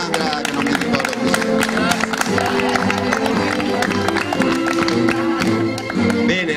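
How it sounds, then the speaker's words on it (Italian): An outdoor piazza audience claps and cheers after a theatre performance of The Emperor's New Clothes, a loud, dense wash of hands with crowd noise, music-like tones and voices mixed in throughout. "ancora un grosso applauso per tutti"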